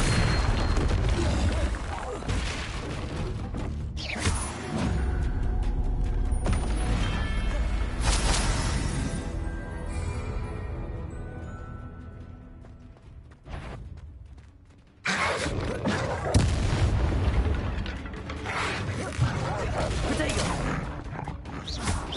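Confringo fire-spell blasts in Hogwarts Legacy, a loud run of booming explosions and crackling impacts that fill most of the stretch, easing briefly toward the middle before a fresh burst, with a voice speaking over the game noise.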